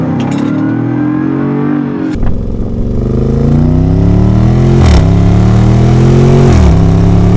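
A 2024 Land Rover Defender Carpathian Edition, a big heavy luxury off-road SUV, accelerates hard with a loud, close engine roar rising in pitch through two gear shifts, no talk over it.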